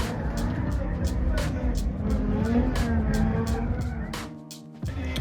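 A Corvette drifts around the course at Fuel Fest in Arizona, its engine roaring loudly and continuously with tire noise and rhythmic bursts, before the roar drops away near the end.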